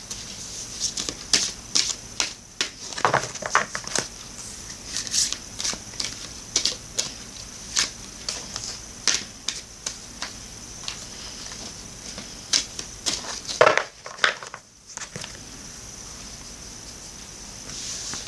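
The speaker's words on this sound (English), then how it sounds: "Now I'm going to shuffle for you the Crystal Mandala Oracle deck." A Crystal Mandala Oracle card deck shuffled by hand, close and quiet: irregular bursts of crisp card riffles and slaps separated by brief pauses, with a short silent gap near the end.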